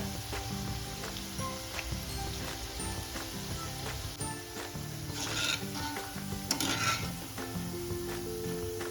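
Cabbage bhaji (gobi pakoda) fritters frying in hot oil until brown, a steady close bubbling sizzle with occasional stirring clinks and scrapes throughout.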